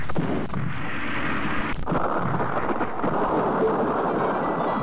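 Video game grenade explosions and gunfire in a level full of grenade-throwing soldiers, a dense continuous rumble of blasts and shots with a sharp burst near the start, loud and steady throughout.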